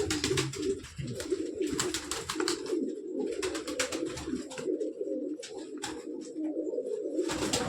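Saharanpuri breed pigeons coo steadily in a low, continuous murmur, with repeated sharp clicks or wing-like taps layered over it, close and moderately loud throughout.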